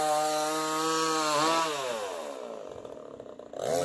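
Chainsaw cutting through a fallen tree blocking a village path in rainy Konkan, a steady loud engine whine that bends in pitch as the blade bites, then drops to rougher, uneven cutting noise before revving up again at the end.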